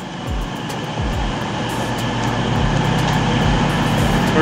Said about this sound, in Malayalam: അപ്പൊ നമ്മുടെ ട്രെയിൻ തന്നെ ആയിരുന്നു അത്